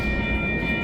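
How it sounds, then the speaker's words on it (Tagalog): A train passes nearby with a steady low rumble and rolling rail noise, close and continuous through the short moment. "Tunog na tren na yan."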